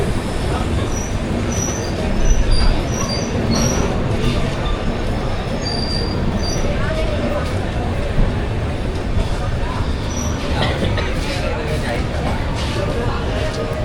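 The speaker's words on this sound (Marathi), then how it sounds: "चला, गाडी निघाली वसईवरून" The Ernakulam SF Express pulls out of Vasai station in the rain with a continuous heavy rumble, rattling wagons and thin wheel squeals, while voices talk nearby.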